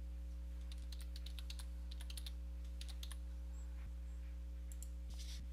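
Keys on a computer keyboard click in quick bursts as a username and password are entered, faint and close over a steady electrical hum, with a few brief pauses between runs of typing.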